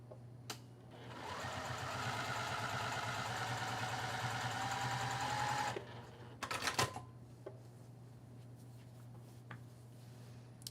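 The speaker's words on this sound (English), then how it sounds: "I'm going to sew this edge again using 1/4 of an inch seam allowance" A sewing machine runs a steady, close mechanical whir while stitching fabric strips for a bag, then stops, followed by a few clicks and handling noises and a quiet room tone.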